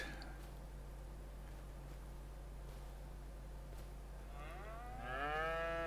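Cattle in Farming Simulator 25 give one drawn-out, rising moo near the end, over a steady low background hum, with no voices.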